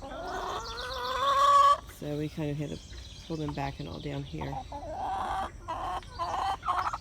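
Chickens cluck and squawk nearby in short, repeated calls, with a louder rooster-like call at the start, while a person talks over them.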